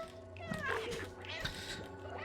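A cat meows repeatedly in the video game Stray, the cries rising and falling over a steady game soundtrack with a low hum beneath.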